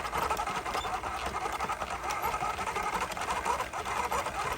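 An Addi circular knitting machine cranks steady rounds of waste yarn, a continuous close whirring clatter with an even mechanical rhythm throughout, no pauses.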